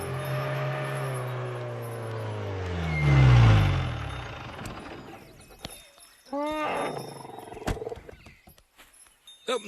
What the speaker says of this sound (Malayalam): ഇതെന്തോന്നടേ, ആന ഫാമ?